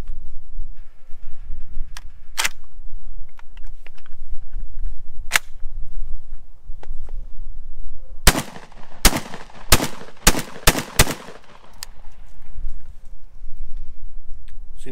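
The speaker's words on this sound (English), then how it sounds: "Let's see if we can get some shooting in. Not sure how well the drum will work" Saiga 12 shotgun firing from a drum magazine outdoors: a few spaced single shots, then a rapid string of sharp, loud blasts, with no talking.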